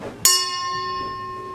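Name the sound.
ringing the ship's bell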